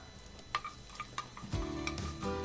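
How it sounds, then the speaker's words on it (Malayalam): Mustard seeds and dried red chillies sizzle and pop in hot oil, with a steady frying hiss, scattered crackles and a few clinks of a spoon against the pan, close and moderately loud. "2 ടേബിൾ സ്പൂൺ എണ്ണ ഒഴിച്ച് കടുകിട്ട്, അതിലേക്ക് 2-3 വറ്റൽമുളക്,"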